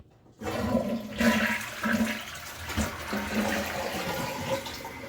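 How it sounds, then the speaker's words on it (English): A household toilet flushes close by in a bathroom, a loud rushing swirl of water that starts abruptly and keeps gurgling and churning steadily for several seconds with no talking. "That's just a courtesy flush."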